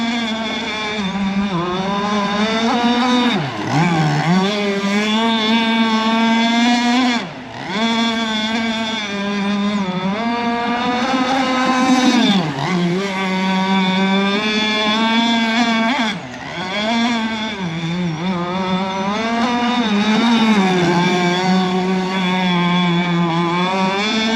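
A radio-controlled gas boat with a Zenoah 26cc two-stroke engine runs on the water at around half throttle, its buzzing whine loud and steady, rising and dipping through a few brief throttle changes and turns.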